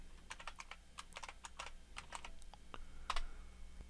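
Someone types a password on a computer keyboard during a Linux Mint install, with a quick, uneven run of crisp, close key taps alone in a quiet room.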